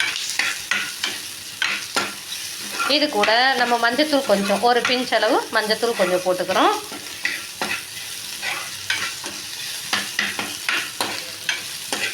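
Sizzling food in a pan with scraping stirs throughout, while a person talks over it for part of the time.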